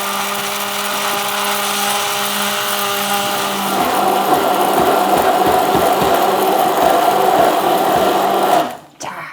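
A kitchen blender whirs loudly as it grinds a handful of pine nuts with about 400 ml of water, a steady motor whine that turns rougher and more churning midway, then cuts off near the end.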